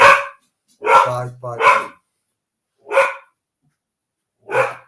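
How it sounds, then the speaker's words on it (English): Dogs bark in several sharp, separate bursts spaced a second or more apart, loud and close, with a short spoken word among them. "What the barking at, man? I don't know, they've been at it all day."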